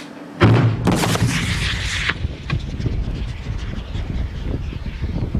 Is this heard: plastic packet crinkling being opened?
no